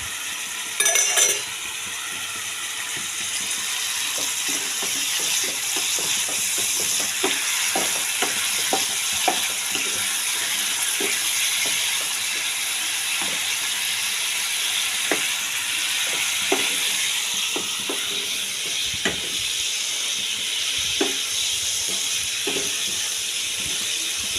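Spice masala for a tangra fish curry frying in a pan, a continuous close sizzle with repeated spatula scrapes and taps across the whole stretch, no voices.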